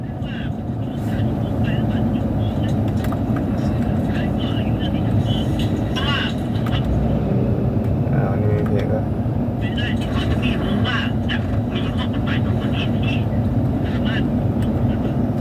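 A Mercedes-Benz W212 E250 CDI diesel sedan on a test drive, heard from inside the cabin as a steady, loud low engine and road drone that holds evenly from start to finish.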